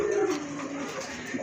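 A male pigeon, a vigorous caller offered for sale, coos in a low rolling stretch that stays fairly close and steady throughout, with no voices over it.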